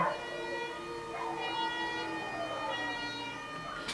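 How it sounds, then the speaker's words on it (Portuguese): An ambulance siren wails steadily throughout as it passes, its rising and falling tone filling the whole stretch with no voices over it. "Vai passar uma ambulância aqui na frente."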